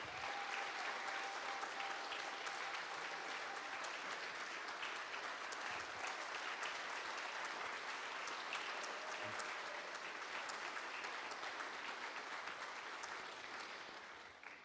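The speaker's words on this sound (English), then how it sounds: "So if we can give her a big round of applause." A congregation at a Sunday church service claps steadily in a sustained round of applause that holds level for several seconds, then tapers slightly at the end.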